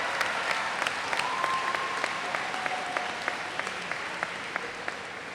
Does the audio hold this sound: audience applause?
yes